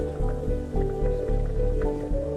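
Water runs with a low flow through a water-powered grain mill in a roadless Himalayan village, giving soft dripping and trickling spatters over a steady low rumble and hum, close and moderately loud, with no talking.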